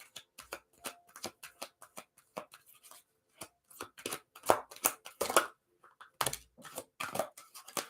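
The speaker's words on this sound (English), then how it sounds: "we shuffled and shuffled and shuffled" Gateway Oracle cards being shuffled by hand during a tarot reading, a close series of irregular crisp card slaps and riffles with short pauses between, no talk.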